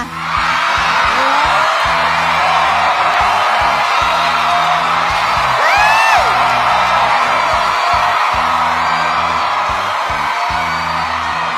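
An audience at a stage contest in a club cheers for Chris, a steady loud roar of voices with whoops and a few rising whistles throughout.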